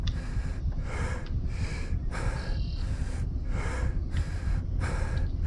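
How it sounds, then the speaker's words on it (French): A person pants hard while riding a bicycle, with loud rhythmic gasping inhales and exhales, steady and close to the microphone throughout. "C'est vrai que je respire comme un asthmatique."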